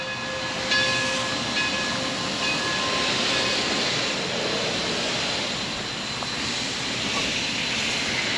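A coal-burning steam locomotive of the Durango & Silverton railroad sits on a turnaround, giving off a loud, steady broadband roar with faint tonal hums running through it for the whole stretch.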